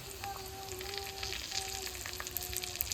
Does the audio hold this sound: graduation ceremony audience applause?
no